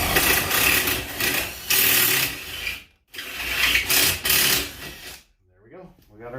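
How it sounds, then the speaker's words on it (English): A large tap spins to cut threaded holes in a steel garage door bracket, giving loud grinding, ratcheting bursts in two long runs with a short pause between, then a quieter stretch. "when you're using a big tapper, you gotta let it spin, so it hogs it out."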